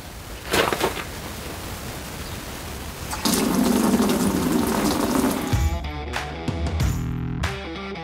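Water pours from a Collomix Aquix electronic water doser into a mixing container, a steady rushing fill that swells partway through and then trails off into irregular splashes and drips; no one speaks.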